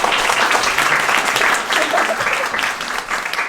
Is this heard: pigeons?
no